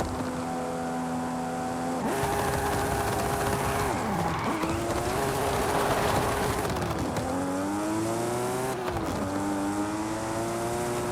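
Nissan Skyline GT-R engine in Forza Horizon 5, loud and close, revving hard through repeated gear shifts with rising and dropping pitch, a steady roaring drone throughout.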